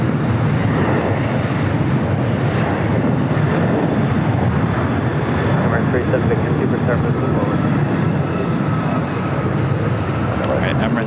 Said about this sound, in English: Have a United Dreamliner heading down for a south side takeoff.